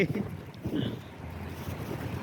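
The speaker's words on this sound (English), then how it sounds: "The wind, especially when it shoots at my hands and face, it bothers me." Steady gusty cold wind rumbles and buffets close to the microphone, a continuous low roar with no voices.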